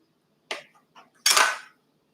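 A knife cuts through cold butter on a board, giving a short crisp chop, a couple of faint taps, then a longer firmer slicing stroke, close and clear in a quiet room.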